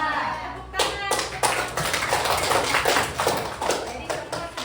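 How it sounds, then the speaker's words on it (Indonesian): A classroom group claps hands after a presentation, a short burst of separate sharp claps with uneven rhythm, fairly close, with some low voices in the room. "Tepuk tangan"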